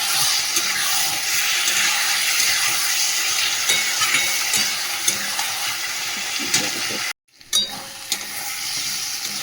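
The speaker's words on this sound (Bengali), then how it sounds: "দিয়ে মশলাটা কষাবো" Spice masala with potatoes sautéing in oil, mashed green chilli and tomato in the mix, a steady loud sizzle with scraping stirs throughout, briefly cut silent near the end before the frying resumes.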